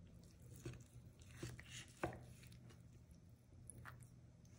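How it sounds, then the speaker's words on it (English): A knife cutting through a cooked four-pound chuck roast, soft moist squishing slices with a few faint taps of the blade on the board, very quiet and close, with no talking. "I am gonna slice into this"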